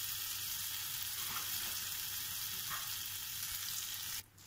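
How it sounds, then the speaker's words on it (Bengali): Amul butter simmers in a kadai as it cooks down into ghee, a soft continuous fizzing sizzle with faint bubbling pops, steady throughout before a brief louder rustle at the end. "এইভাবে বাটারটাকে কড়াইয়ে দিয়ে ডালিয়ে নিলেও শুদ্ধ ঘি হয়ে যাবে"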